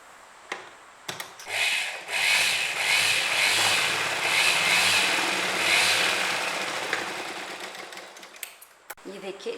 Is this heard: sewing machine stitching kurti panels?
yes